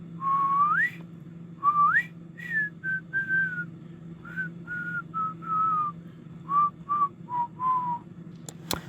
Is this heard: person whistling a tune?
yes